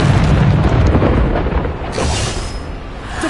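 A Bombarda spell blast in Hogwarts Legacy: a loud, sustained booming explosion roar, heavy low rumble with a brighter crackling burst midway, filling the whole moment with no talk.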